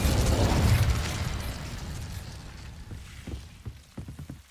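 An Incendio fire spell cast in Hogwarts Legacy, a loud whooshing burst of flame that fades over a couple of seconds, followed by soft crackles and a few sharp pops.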